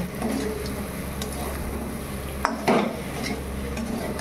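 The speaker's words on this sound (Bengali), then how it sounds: "এখন ভালো করে একটু ঢাকা দিয়ে কষিয়ে নেব।" Fried pork pieces and four whole onions stirred in a covered pot, giving a steady low sizzle with a few utensil scrapes and clinks against the metal, fairly close.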